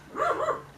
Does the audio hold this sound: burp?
no